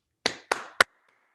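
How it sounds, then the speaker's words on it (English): Three sharp hand claps, close and evenly spaced, each with a short ringing tail in a quiet room, offered as a quick round of applause for artists at a virtual art opening reception. "Please join me and give them each a quick round of applause."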